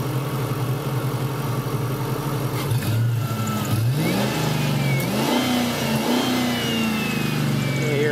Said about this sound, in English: You hear that V8 runs strong.